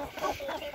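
Frizzle chickens cluck softly in a short, close burst of low, rounded calls near a coop with a ramp, roost and dust bath.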